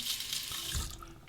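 A safety razor, a Merkur 38C, is rinsed under a running bathroom tap, giving a steady broadband rush of water with a brief deeper gurgle as the razor passes through the stream, close and fairly loud, with no talking.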